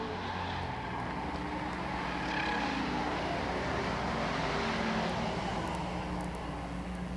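Bomber-class race cars coming out of turn four at Lakeport Speedway, a broad, continuous engine roar from a distance that swells slightly through the middle.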